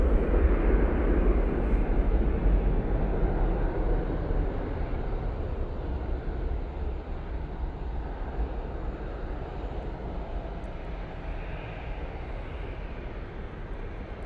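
A Ryanair jet bound for Venice climbs away from a snowy Manchester Airport, its deep rumbling engine roar loud at first and then slowly fading as it pulls away, with no voices heard.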